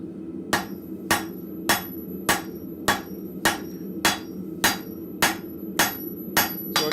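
A rounding hammer strikes hot metal on an anvil in a blacksmith shop, a dozen sharp ringing blows at a steady, even rhythm, close and loud over a low room hum.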